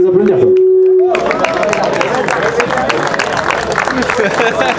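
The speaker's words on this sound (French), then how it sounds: "On peut les applaudir." Crowd applauding race teams gathered at the podium after a six-hour Solex moped endurance race, a dense, steady clapping that swells in after a short lull and continues loudly throughout, with some voices mixed in.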